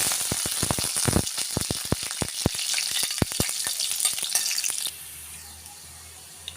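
Curry leaves drop into hot oil already holding cumin seeds and garlic, setting off a loud burst of crackling and spitting pops that gradually thin out, then fall away to a softer, quieter sizzle.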